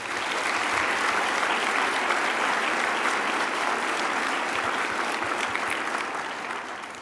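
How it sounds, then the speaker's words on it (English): Conference audience applauding conference staff, a sustained wall of dense clapping that holds steady for several seconds before easing slightly at the end. "Let's give a round of applause."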